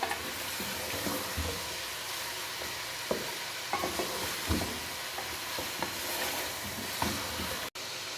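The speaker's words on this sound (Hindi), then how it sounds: "दो से 3 मिनट तक हम इसको फ्राई करेंगे, जब तक कि चिकन का कलर चेंज नहीं हो जाता" Steady sizzling of chicken frying in a pan, with occasional scrapes and stirring clatter, close up and continuous with no speech.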